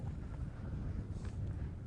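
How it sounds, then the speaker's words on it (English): Steady wind buffets the microphone on a fishing boat out on open water, a continuous low rumbling roar with no talk. "the wind is lower now"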